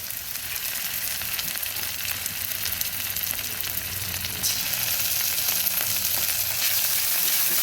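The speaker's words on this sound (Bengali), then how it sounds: "আদাটাকে একটু ভেজে নিচ্ছি।" Ginger paste sizzles steadily with onions in a hot pan for a Bengali baby banana curry, a close, continuous crackle with no pauses and no talking.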